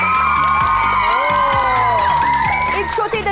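An audience at a French television game show cheers and whoops loudly, with excited shouting voices layered over continuous music throughout.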